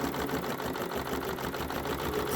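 Bernina embroidery machine using a freearm hoop stitches a design onto a t-shirt, giving a steady close mechanical hum with rapid, even needle clatter throughout.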